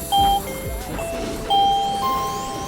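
A two-tone ding-dong doorbell chime rings out clearly, then sounds again a moment later, with a steady background hum behind it.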